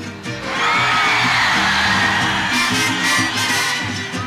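Live concert crowd at a ranchera show, a loud sustained roar of shouting, whoops and cheering that swells after a quiet start and stays dense throughout.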